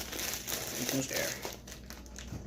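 Plastic bag crinkled and squeezed to push the air out, a continuous close rustling and crackling across the whole moment with a person talking over it.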